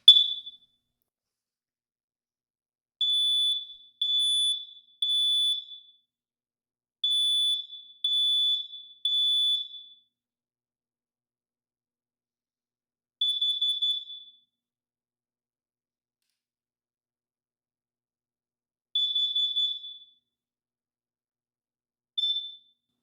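A combination smoke and carbon monoxide detector sounds its test alarm in loud, piercing beeps grouped in threes, repeated several times with gaps, then a few more isolated bursts later on, with no talking.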